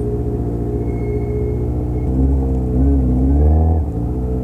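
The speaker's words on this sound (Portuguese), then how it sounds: "Já vejo carros aqui Carro ali" Car engines rumble and rev at a speedway, a loud steady low drone whose pitch rises and falls in the middle, with no one talking.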